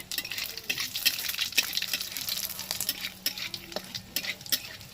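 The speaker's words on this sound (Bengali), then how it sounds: "ভালো করে এটাকে ভেজে নেবে এই ফোড়নটাই কিন্তু মেন" Radhuni spice seeds fry in oil for tempering, a close, fairly quiet crackling sizzle broken by irregular scrapes and clicks of stirring.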